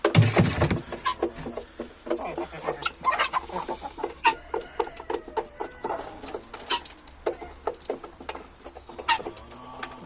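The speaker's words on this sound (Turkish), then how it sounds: "Gördüğünüz gibi bunlar son tavuklar kalmadı." Chickens cluck repeatedly at close range, short irregular calls overlapping one another over a low farmyard background, with no talking.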